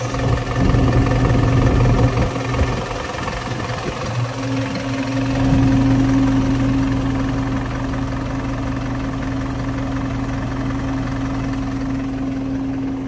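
A Mitsubishi Canter truck's diesel engine runs at idle, loud and near. It keeps a steady, rumbling chug with a constant droning hum, and it sounds rougher for the first few seconds before evening out.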